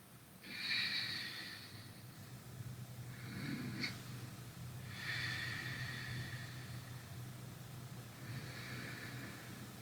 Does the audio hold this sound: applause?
no